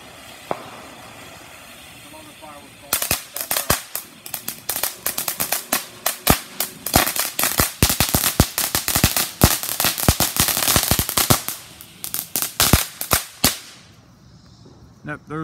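A firework called Resolution at a Fourth of July celebration bursts into a rapid string of loud crackling pops for about eleven seconds, preceded by a brief fuse hiss, then fades to quiet.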